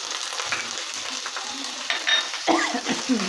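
Garlic and ginger paste fries in a pan, giving a soft steady sizzle, with occasional spoon scrapes and clinks growing louder toward the end.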